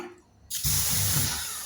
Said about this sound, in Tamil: தண்ணி தெளிச்சுட்டு